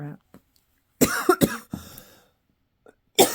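A woman coughs several times in short bursts, loud and close, with pauses of near silence between the fits, during a crochet demonstration at home on a snowy day in Pennsylvania.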